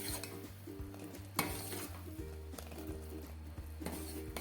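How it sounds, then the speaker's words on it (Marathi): Sugar syrup for rava laddu is stirred with a metal ladle in a pot, giving soft repeated scraping and clinking strokes over a low steady hum, fairly quiet. "हा पाक जो आहे तो असा सतत असा पळीने असा हलवत राहायचा आहे"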